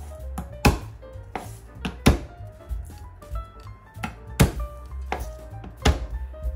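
Garlic being chopped for pork adobo, a run of sharp knife thunks on a cutting board in an irregular rhythm, close and fairly loud, with quiet kitchen background between strikes and no speech.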